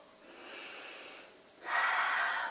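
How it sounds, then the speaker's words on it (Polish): Two slow, audible breaths close to the ear, a soft drawn-out inhale followed by a louder, rushing exhale, with no talking. "I kiedy oddycham wolniej"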